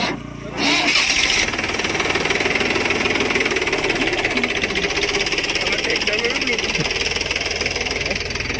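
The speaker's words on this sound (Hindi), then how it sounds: "यहाँ पर ट्रैक्टर इतनी फास्ट चला रहा था" A tractor engine cranks and catches, then runs steadily with a loud, close, rough chugging throb that continues without a break.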